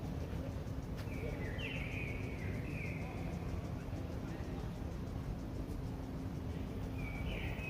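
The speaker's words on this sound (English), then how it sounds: "you can kind of hear the birds." Birds chirp faintly outdoors, a few short whistled calls coming from a distance over a heavy, steady rumble of background noise.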